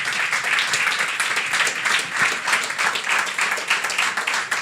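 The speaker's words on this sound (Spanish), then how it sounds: "Fuerte el aplauso para Karina." A strong round of audience applause at a talk on cultural rights and democracy, many hands clapping in a dense, steady, fairly close burst that pulses slightly throughout.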